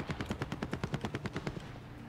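Rapid automatic gunfire in Call of Duty: Warzone, a steady burst of about fifteen evenly spaced shots over roughly a second and a half, close and punchy, then trailing off into quieter game ambience.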